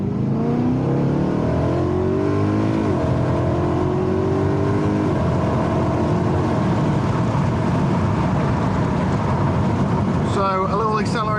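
BMW E92 M3 with its V8 accelerating on a country road, a steady, loud engine note rising through the gears from inside the cabin, with speech over the drone.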